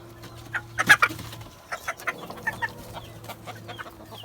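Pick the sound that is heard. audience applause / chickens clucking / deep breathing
chickens clucking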